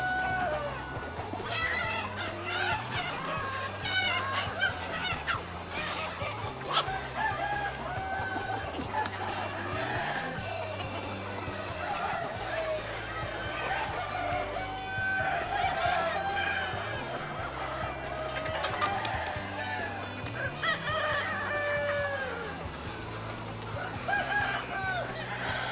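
Crowing and clucking from a flock of Mía chickens at a farm holding about 7,000 birds, continuous throughout over a steady, rhythmic low backing sound.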